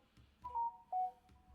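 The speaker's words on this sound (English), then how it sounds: "because my phone keep going off." A mobile phone notification sounds, two short clear electronic tones one after another over quiet background murmur.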